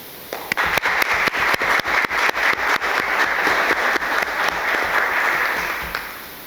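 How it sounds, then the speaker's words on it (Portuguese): An audience at an international seminar gives a round of applause. Dense, even clapping fills the room, with a few sharp claps standing out. It holds steady for several seconds and then fades toward the end. "eu gostaria de pedir a vocês uma salva de aplausos para o Guilherme e para o Fernando"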